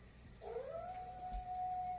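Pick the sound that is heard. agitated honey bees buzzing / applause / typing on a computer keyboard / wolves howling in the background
wolves howling in the background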